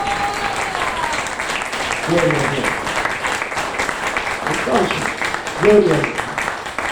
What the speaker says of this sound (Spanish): Sí, denle palmas al Espíritu Santo.